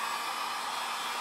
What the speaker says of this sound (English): I'm going to take the trusty heat gun.